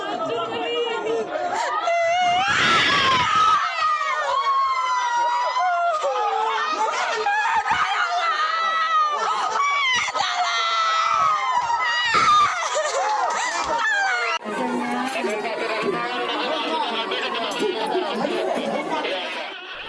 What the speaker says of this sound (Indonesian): Jerit penumpang KM Lambelu tak terbendung setelah melihat 5 penumpang nekat lompat dari atas kapal.